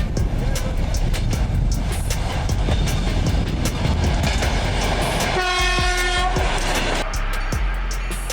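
An electric train runs beneath snowy overhead lines, a loud continuous rumble with clattering, and a sustained horn blast sounding midway.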